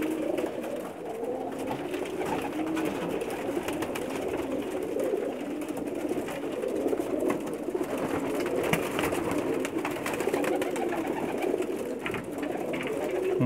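Pigeons coo continuously in soft, throaty, overlapping rolls, with several birds close by and a steady murmur behind them.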